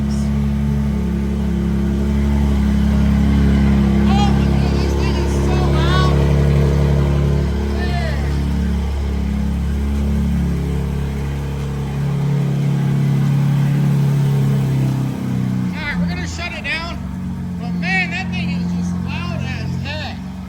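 The engine of a wrecked BMW M4 Competition runs steadily after cranking, a loud low idle with harmonic drone, settling lower midway while people talk excitedly over it.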